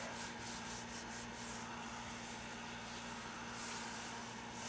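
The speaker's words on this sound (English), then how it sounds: "I find with the cardstock, I really need to give it a good rub" Cardstock rubbed hard by hand for a card-making postcard base, a steady close scraping swish running continuously with no voices.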